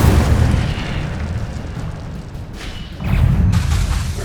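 A loud, booming blast from the Incendio fire spell in Hogwarts Legacy, a heavy low rumble that dips midway and then surges again in a second burst, with no talk over it.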